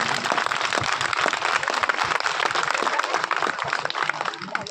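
Loud, dense applause from a large audience at a youth gathering in Mughal Maidan, Kishtwar, sustained and even throughout without a break.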